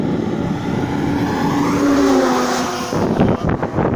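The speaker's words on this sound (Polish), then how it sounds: "o, Tirek jedzie." A large truck passes by on a road after a storm, its engine noise swelling and fading over several seconds at close range, with rushing wind-like road noise and no talking.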